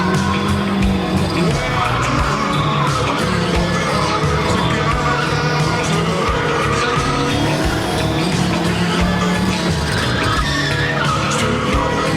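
A car engine roars continuously while tires squeal in long, drawn-out skids, loud and close throughout.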